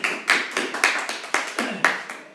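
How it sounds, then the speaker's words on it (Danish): A group of people clapping in a steady run of about nine close, sharp claps, loud and rhythmic with no talk over them. "Og klapper vi nu"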